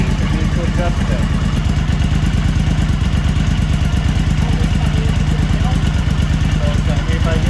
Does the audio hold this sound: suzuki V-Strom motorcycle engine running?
yes